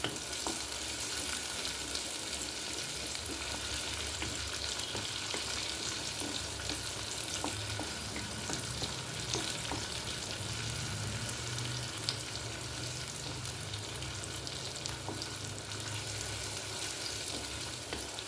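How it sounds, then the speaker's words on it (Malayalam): Dried red chillies frying in hot oil for an uppumanga tempering, a steady, dense sizzle and crackle that holds evenly throughout with occasional stirring sounds. "നന്നായിട്ട് ഉണക്കമുളക് നന്നായി മൂക്കട്ടെ."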